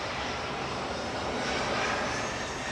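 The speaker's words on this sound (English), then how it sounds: "Ryanair departing to Katowice" A Ryanair jet airliner departs Manchester Airport for Katowice, its engines giving a steady, loud, broadband roar that swells slightly midway and holds throughout without talk.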